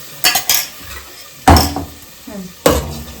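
Several loud metallic clanks and scrapes of a spoon against a pan while stirring drumstick curry with a little water added, coming in bursts with short pauses between, under a light sizzle.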